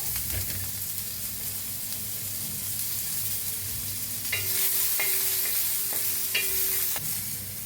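Ginger and garlic sizzle steadily in oil for turmeric chutney, a continuous frying hiss with several short scraping stirs in the second half, no voices.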